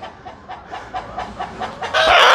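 A rooster gives a rhythmic run of short, close clucks, about two per second, before breaking into a louder, harsher burst at the end.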